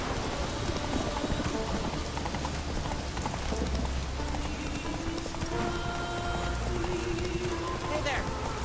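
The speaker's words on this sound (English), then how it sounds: "Raining buckets." Heavy rain pours down steadily in The Witcher 3 as a horse's hooves clip-clop along, with background music and occasional low rumbles underneath the constant hiss.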